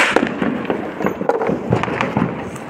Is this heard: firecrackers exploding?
yes